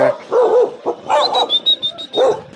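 A dog barks and yelps several times in quick irregular bursts, close and loud, in a hillside island community on Koh Sirey, Phuket, with a high whine between barks.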